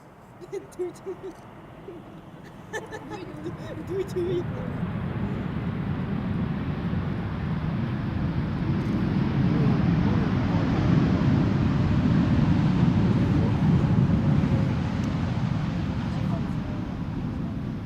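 A jet airliner arriving from London Gatwick at Schiphol Airport roars, building steadily and holding loud and broad, rumbling as it passes nearby, with a few faint bird calls at the start.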